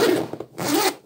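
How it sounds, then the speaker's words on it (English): Heavy duty zipper on a Filipino army ALICE pack, pulled in two quick rasping strokes, close and clear. "really nice heavy duty zipper"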